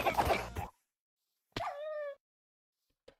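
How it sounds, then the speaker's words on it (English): A Minecraft dog falling into a mob farm killing chamber makes a short burst of hurt and impact noise, then a single clear whimpering yelp, then a tiny click, with silence between. "A dog just fell into the killing chamber"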